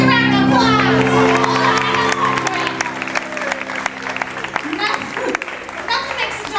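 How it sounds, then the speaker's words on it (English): An audience breaks into applause and cheering for Chris at a live comedy show, loud at first and then thinning into scattered clapping as a voice talks over it. "Give Chris a round of applause."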